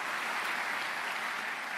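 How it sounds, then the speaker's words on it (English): Audience applause at a municipal association conference fills the room, a dense, steady wash of many hands clapping at once, even and sustained throughout with no voices above it. "Let's give yourselves a round of applause"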